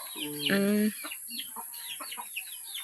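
Chickens cluck close by, a few short harmonic calls near the start followed by softer scattered clucks and chirps against a steady background hiss.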